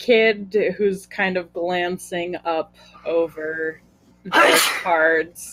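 A single loud sneeze bursts out near the end, after a stretch of steady conversational speech in a tabletop game session.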